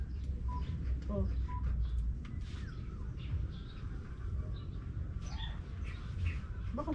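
Birds chirp intermittently at a beach campsite in Quezon over constant broadband surf or wind noise, with people talking at times.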